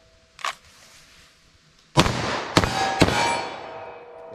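Three loud 9mm-class pistol shots cracking at a target during a 9mm vs .40 vs .45 ballistic test, preceded by a faint, short knock, the shots coming in quick succession about half a second apart.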